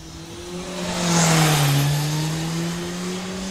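A drag racing car powers down the strip during a timed qualifying run at an Amazonas state drag racing championship event, its engine a loud sustained roar that swells past the middle and then holds steady, with no talking.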